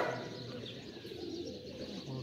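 Wide-tailed pigeons at a breeding loft coo softly in a faint, low murmur, with light chirps over quiet background noise.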